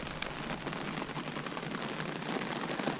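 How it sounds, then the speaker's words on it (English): Light rain falling at a lakeside in northern Sweden, a steady soft patter of drops on surfaces, even and continuous with no voices. "You've got this rain, very pleasant rain"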